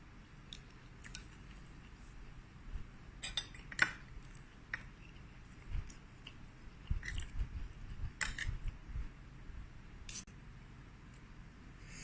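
Someone eating rice topped with forest-style beef curry, with scattered metal cutlery clinks against a plate and soft chewing, all quiet and close, with no talking.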